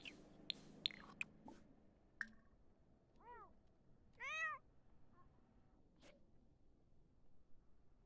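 Cat meows in The Sims 4, two short rising-falling calls near the middle, fairly faint, with scattered clicks and light game sounds around them and no talking.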